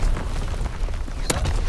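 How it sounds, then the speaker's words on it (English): Heavy artillery battery fire in the World War II shooter Call of Duty: WWII, deep rumbling booms under a constant low din, with one sharp, loud blast standing out near the end. "Firing primary battery, target position confirmed. Sending mortar ready."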